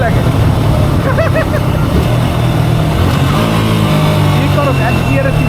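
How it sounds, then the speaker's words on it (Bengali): A vehicle engine brakes through an aggressive downshift, a steady rumbling engine drone close by, with people talking over it. "এটা না না, এটা ইঞ্জিন ব্রেক"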